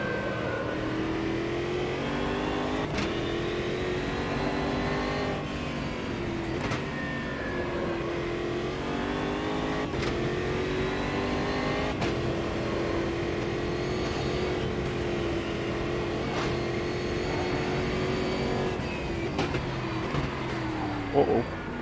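Stock car V8 racing engine in the Automobilista 2 racing game, a continuous loud engine roar with rising and falling revs through gear shifts, steady throughout.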